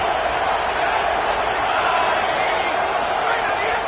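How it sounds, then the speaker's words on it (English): A stadium crowd at a Crimson Tide college football game roars in a steady, dense wash of noise, loud and unbroken with no distinct peaks. "This crowd rising up, sensing that its defense needs some help."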